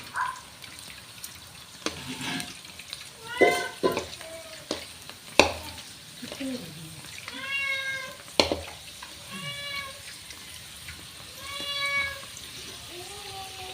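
Puris deep-fry in hot oil with a soft bubbling sizzle, while a cat meows repeatedly and loudly nearby and a few clinks sound over the frying.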